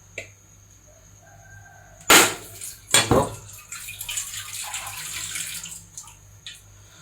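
A coconut is struck hard and cracks open in a couple of sharp knocks, followed by a steady splashing trickle as its water spills out for several seconds, close by and with no talk.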